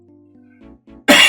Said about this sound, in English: Pardon me if I cough a bit and stuff.